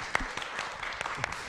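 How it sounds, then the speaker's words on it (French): Studio audience applause for a guest on a local television talk show: scattered, distinct handclaps rather than a dense roar, moderately close, with some crowd murmur beneath. "Tonnerre d'applaudissements"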